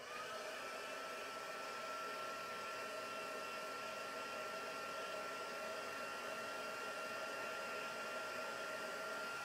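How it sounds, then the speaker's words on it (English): A heat tool drying ink on a handmade slimline card, a steady, even hair-dryer-like blowing hum with a faint whine, constant and quiet throughout. "I think I'm going to use my heating tool"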